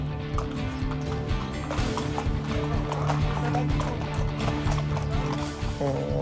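Horses walking on the show arena stage of the Cinéscénie at Puy du Fou, with steady clip-clop of hooves, a brief whinny and a busy background of other noise.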